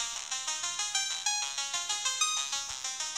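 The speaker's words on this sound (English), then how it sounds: "Why is there a Mario die sound when you die?" The Mario death jingle sounds in a Roblox Potato obby game, a bright, bouncy run of electronic notes in a steady rhythm, clear and alone with no talking.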